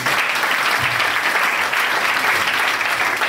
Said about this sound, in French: je pense qu'on peut l'applaudir encore plus.